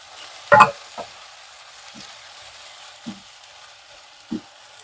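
Ground masala frying in ghee in a pan for egg ghee roast, a sharp burst of stirring and sizzle followed by a few softer scrapes spaced apart over a quiet background, close by.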